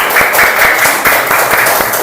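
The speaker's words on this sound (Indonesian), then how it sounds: "Bagus, tepuk tangan." A classroom of children at an Islamic primary school claps together in a loud, fast, rhythmic burst of applause that stays close and dense throughout.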